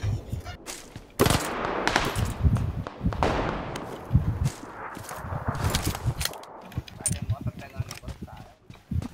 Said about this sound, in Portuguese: Esse cara direto atira nele, hein?